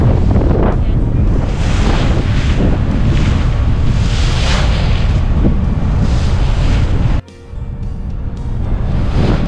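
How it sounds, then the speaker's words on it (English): Strong wind buffets the microphone on a ferry crossing to Dauphin Island, over rushing waves and a low engine rumble. The roar is loud and continuous, dips briefly, then returns. "On our way to Dauphin Island on the ferry."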